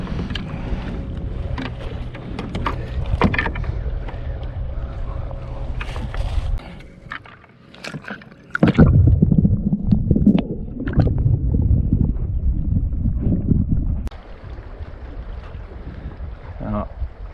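Wind gusting over a boat on an Adirondack lake during spring fishing, a steady rushing roar with louder buffeting bursts in the middle, and a voice briefly heard.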